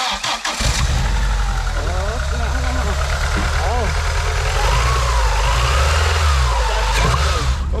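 A 1992 Honda Accord with a rusty gas tank, unused for about 20 years, cranks and turns over loudly up close. The engine drones steadily throughout, with voices talking over it.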